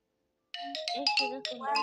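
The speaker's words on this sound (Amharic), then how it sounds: "ስልኳ እየጠራ ነው።" A mobile phone plays a melodic ringtone that starts abruptly after a short silence. The clear, fairly loud tones step up and down in a bouncy tune, with no one talking over it.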